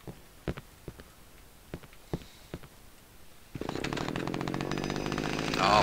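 A chainsaw in the Cry of Fear horror video game starts up partway through and runs loud and continuous to the end, after a few scattered thumps and footsteps.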